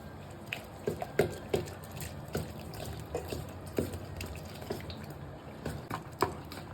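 Strained jaggery water is poured into millet flour batter for thinai paniyaram and mixed in. Faint, close liquid drips and soft wet stirring taps repeat at an irregular pace over quiet background noise.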